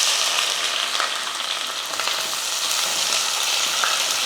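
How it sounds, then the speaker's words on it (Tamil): Sliced onions with bay leaf and spices sauté in hot oil, a loud continuous sizzle with occasional stirring clicks, close and steady with no talk. "வெங்காயம் நல்லா வதக்கி விட்டுக்கலாம்."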